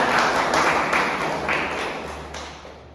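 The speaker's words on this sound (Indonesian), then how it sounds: "tepuk tangan" Sustained applause from a classroom group, many hands clapping steadily and fairly close for the whole stretch.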